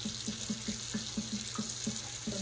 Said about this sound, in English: So I'm putting all cold water in there.